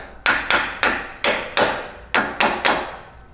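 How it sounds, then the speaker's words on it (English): A brass hammer taps a front 1350 driveshaft on a Jeep JL into its yoke with eight sharp metallic blows in an uneven rhythm, close and clear, with no talking. "I'm going to use a brass hammer to tap it in"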